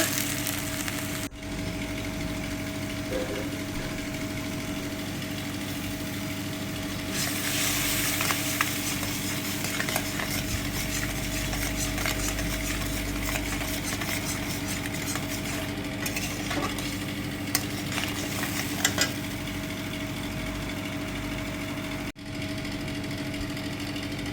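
Ground turmeric, chilli, cumin and coriander with green chillies sauté in oil in a pan for a rohu fish curry, sizzling continuously and loudly with intermittent spoon scrapes and stirring clatter.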